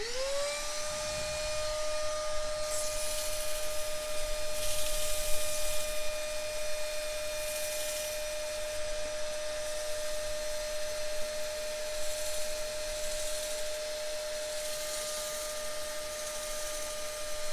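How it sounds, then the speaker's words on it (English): A Hoover vacuum cleaner whirs up to speed and runs continuously, a loud steady whine with a strong tonal hum, close by and alone. "Turning the Hoover on. It's going to be noisy."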